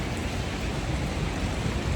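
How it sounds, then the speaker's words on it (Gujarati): Heavy rain pours down steadily outdoors in the evening, a dense, even hiss of water with no breaks and no voices. "બહુ વરસાદ પડ્યો જબ્બર"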